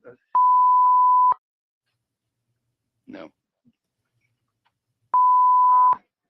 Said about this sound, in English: Oh my gosh, the beeps